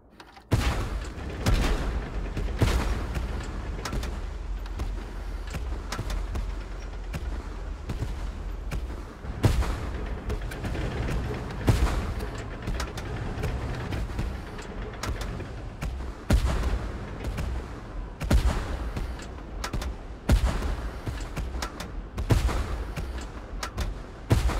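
Artillery bombardment in the Tank Force video game, with repeated heavy booms and shell blasts landing at irregular intervals over a continuous rumbling battle bed, loud and sustained for about twenty-five seconds.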